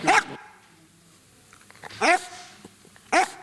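A trained film dog barks three times in short, sharp bursts spaced about a second apart, close and clear over a quiet background.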